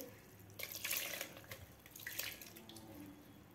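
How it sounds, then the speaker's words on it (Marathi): Water runs from a tap in uneven splashy bursts as a bitter gourd is rinsed and rubbed underneath, fairly quiet and close. "आता एक कारला आपल्याला धुवून घ्यायचा आहे."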